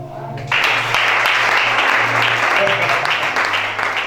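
A church congregation claps and cheers together, steady and loud throughout, with a preacher's voice briefly heard at the very start.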